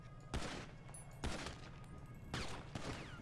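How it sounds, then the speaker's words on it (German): Gunfire in the video game GTA 5, several bursts of shots spaced about a second apart over steady background game noise. "hör auf zu schießen ohne meine Erlaubnis"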